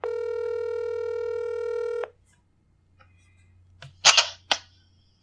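A phone gives a steady two-second tone, then falls quiet before a few sharp clicks and taps sound close by as the call is placed.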